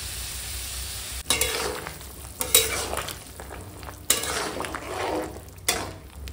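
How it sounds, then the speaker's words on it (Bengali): A pan of fish curry broth bubbling on the stove, a low steady simmer broken by several sharp scrapes and clatters of a spoon stirring against the pan, with no talking. "এখন ঝোলে জাল উঠে গেছে"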